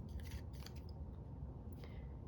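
Scissors snip and scrape through paper up close during a crafting session, a few quick crisp cuts over a soft, steady background with no talking.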